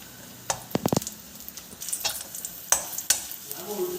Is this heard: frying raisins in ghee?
yes